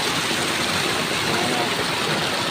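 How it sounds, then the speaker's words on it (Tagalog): A river stream at Tungtong Falls rushes loud and close, a dense continuous broadband wash of flowing water. "So ito yung ilog guys."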